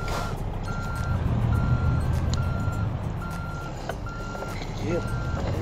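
Truck in American Truck Simulator backing up a trailer, with regular reversing beeps repeating at an even pace over a loud, constant engine rumble.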